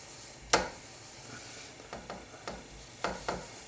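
Thai red curry paste warms in hot oil in a pan, giving a soft, steady sizzle beneath a handful of sharp scraping knocks as it is stirred.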